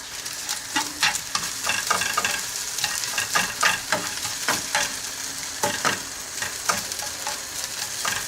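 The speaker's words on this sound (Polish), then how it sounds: "I nadzorujemy tutaj to smażenie, aż nam tofu się zarumieni ładnie." Tofu sizzles steadily in oil in a pan, with irregular clicks and scrapes as it is stirred and turned, close up and moderately loud.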